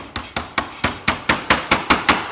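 A hammer taps a metal patch on a beehive queen excluder: about ten sharp, evenly spaced metallic knocks in quick succession, close and clear with nothing else heard.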